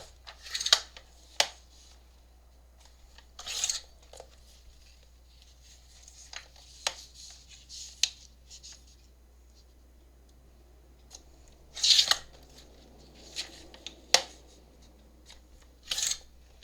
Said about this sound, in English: I'm going to cut out just this and this